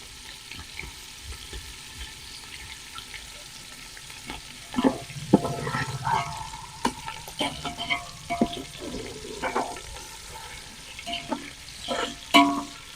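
Paneer pieces frying undisturbed in a pan on one side until golden for a paneer biryani, a steady close sizzle with scattered pops and light clatter, no talk.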